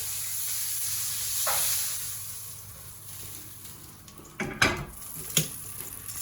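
A tomahawk steak cooks in a hot pan with a faint, steady sizzle and hiss, broken by a few sharper bursts of crackle toward the end.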